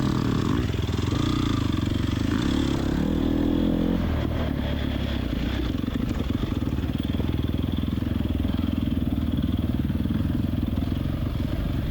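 A KTM dirt bike races on a wooded hare scramble course, its engine buzzing loudly and steadily close by with throttle changes and rattling clatter over rough ground.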